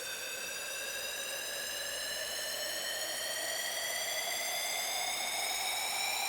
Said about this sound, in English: we have the riser, which is a simple uplifter